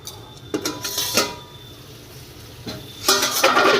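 Metal lid lifted off a cooking pot of ilish fish curry with taro, giving a few sharp clinks and scrapes close by, followed after a pause by a longer rattling clatter.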